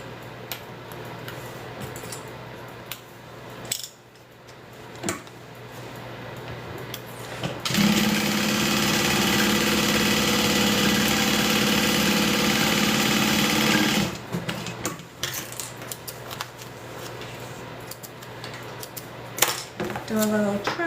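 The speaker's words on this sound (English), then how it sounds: "Sew those together" A sewing machine stitching fabric panels together runs in one fast, loud, steady burst of about six seconds, framed by quieter handling of cloth and a few soft clicks before and after.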